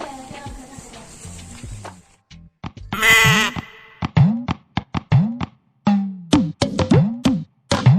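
Goat bleating in a comedy sketch, a series of loud, close bleats repeating in short bursts after some brief earlier noise, with no talk over them.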